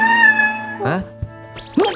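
An animated cartoon cat lets out two short, rising meows about a second apart, close and clear, after a sustained tonal sound at the start.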